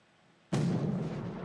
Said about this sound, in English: Man the mortars!